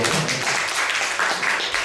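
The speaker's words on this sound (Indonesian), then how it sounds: "beri tepuk tangan yang meriah" Church congregation applauding during an Indonesian sermon, a dense, steady wash of many hands clapping together for the whole stretch, with no speech over it.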